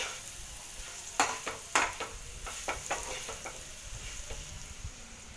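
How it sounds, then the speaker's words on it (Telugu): Sliced bitter gourd frying in a pan with turmeric and salt gives off a steady sizzle, while a spatula stirs and scrapes in a run of sharp strokes; no one speaks. "పచ్చివాసన పోయేంత వరకు ఇలా తిప్పుతూ ఉడికించాలి."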